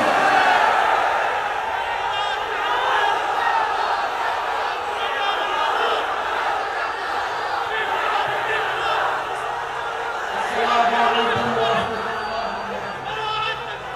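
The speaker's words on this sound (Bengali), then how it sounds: "কারা কারা যে রাজি আছেন দুহাত তুলে তাকবীর দিয়ে আল্লাহকে শোনাও।" Large crowd at a Bangladeshi Islamic religious gathering in Lohagara shouting takbir in unison with raised hands, a loud sustained mass of voices throughout.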